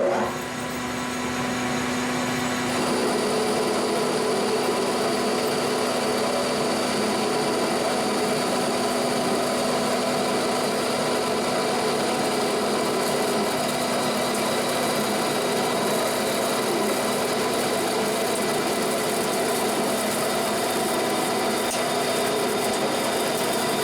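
A metal lathe cutting at a high feed rate and reduced spindle speed, producing a loud, steady machining whine with a constant motor drone that holds unbroken throughout.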